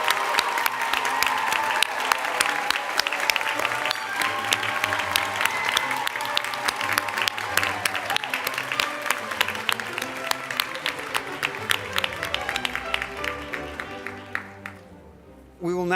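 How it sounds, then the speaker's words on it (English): Applause at a culinary school commencement honoring health-supportive culinary arts graduates: dense, loud clapping from a large crowd with voices mixed in, sustained for many seconds before tapering off at the end. "A round of applause for our health supportive culinary arts students."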